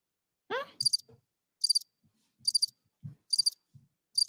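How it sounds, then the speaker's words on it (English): Crickets chirp in short, evenly spaced bursts, played as a comic sound-effect button, with a low thump or voice fragment just before and faint low knocks between chirps. "Where's my crickets button?"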